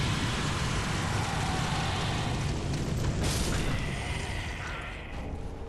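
An exploding enemy in Dark Souls 3 sets off a dense, roaring blast of game sound that holds loud and steady, then eases slightly near the end.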